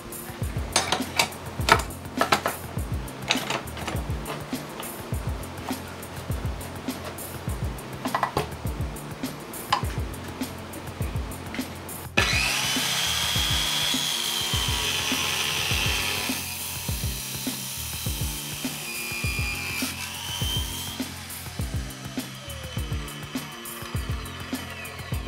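An Allefix chop saw fitted with a Diablo Steel Demon blade cutting through steel C-channel, a loud, close, sustained grinding whine with rhythmic pulsing and a sharper, brighter screech once the blade bites into the metal.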